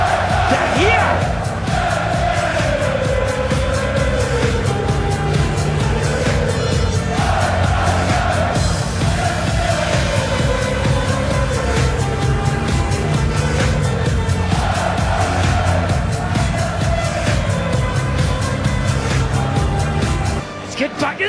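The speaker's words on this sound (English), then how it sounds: "Well, the crowd are enjoying the match." A darts crowd roars and chants continuously at a PDC World Championship 2010 match between Klaasen and Bates, a loud, dense wall of cheering with rising and falling chant swells.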